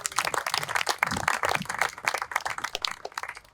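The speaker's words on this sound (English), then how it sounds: "a round of applause" An audience at a volunteer appreciation gathering claps steadily and fairly close, a busy, uneven patter of hands that continues for several seconds without talk.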